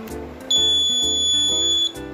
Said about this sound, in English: Now I am putting my hand up the sensor and the buzzer is on.